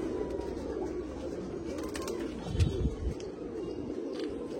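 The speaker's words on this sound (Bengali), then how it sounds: "এই পায়রাটা আমার খুব প্রিয় পায়রা" A domestic hen pigeon coos softly, low and faint, over a quiet background hiss.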